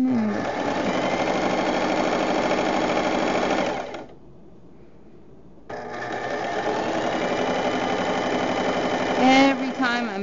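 A sewing machine stitches fabric for a small pet tunnel, a loud close rapid whirring chatter that stops for about two seconds and then resumes, with a voice speaking over it near the end.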